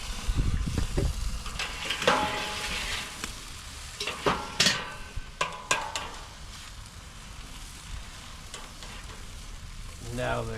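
Steaks sizzling on an SnS grill, a steady crackling fry with occasional sharper pops and clatters of handling, fairly close and moderately quiet, with no talking.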